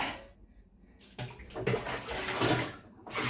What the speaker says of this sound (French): Notre douche à l'eau de pluie.